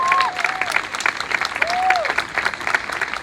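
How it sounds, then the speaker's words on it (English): A street protest crowd claps and cheers loudly, with high whoops and whistles rising over the dense applause throughout. "give yourselves a round of applause for that"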